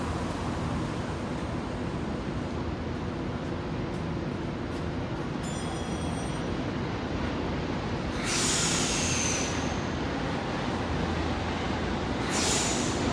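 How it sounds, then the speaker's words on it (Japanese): A Tokyo Metro Tozai Line 05 series train pulls out of Nishi-Funabashi station, a steady loud rumble of wheels and motors with brief hisses of air and a short beeping signal partway through. "8番線電車が動いております。ご注意ください。"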